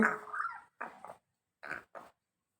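A voice imitates a dog's whimpering cry in four short wailing bursts separated by brief pauses, close and clear.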